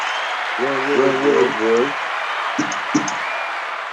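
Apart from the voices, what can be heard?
audience applause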